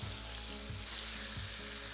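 Steady, loud sizzling of chicken frying in a pan over medium heat, a continuous crackling hiss with a low hum underneath, no voices.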